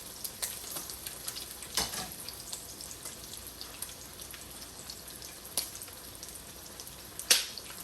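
Onions and peppers fry in a pan, making a quiet, steady sizzle with scattered sharp pops and crackles, one louder pop near the end.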